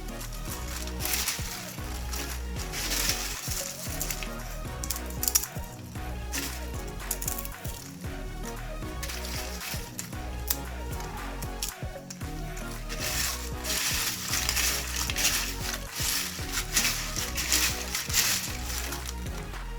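Someone crunches homemade crispy potato chips, like Lay's, producing a long run of close, dry, rhythmic crackling bites and rustles that stays fairly even throughout.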